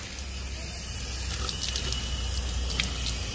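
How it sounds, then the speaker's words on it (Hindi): Tap water runs steadily over a car air filter during a rinse. The flow makes a continuous, moderately loud hiss and splash that lasts the whole stretch. "सिंपल इसको टैप वाटर के नीचे रख लीजिए और ये क्लीन हो जाएगा"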